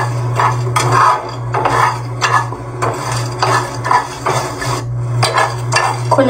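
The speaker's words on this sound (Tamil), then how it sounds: "நல்லா ட்ரை ரோஸ்ட் பண்ணிடுங்க." Cumin, a cinnamon stick, a dried red chilli and cloves dry roasting in a pan, with repeated scraping and stirring clatter from a utensil against the metal, close and fairly loud, over a steady low hum and no talk.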